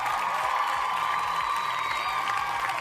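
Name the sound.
applause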